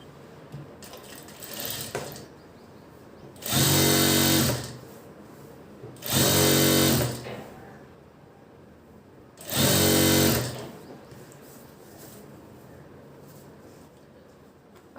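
A sewing machine stitches lining onto a princess-cut blouse in three steady bursts of about a second each, separated by quiet pauses, close and clear with no talking.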